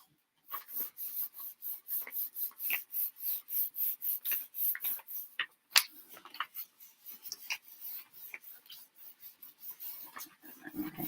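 Paper laid over a card is rubbed firmly by hand, giving a long series of quiet, rhythmic swishing strokes, evenly spaced at first and then quicker and more irregular.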